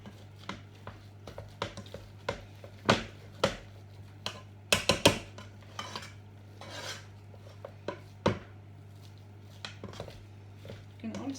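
Cottage pie filling is stirred in a pot, giving intermittent clinks and scrapes of a utensil against the metal, some sharper knocks among them, over a low steady hum.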